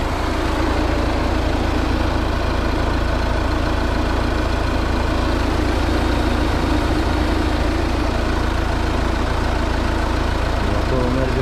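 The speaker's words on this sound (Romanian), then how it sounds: "Am pornit și motorul." An Audi A4 B8 car engine idling with a freshly cleaned engine bay, a steady, continuous low hum heard close up without change throughout.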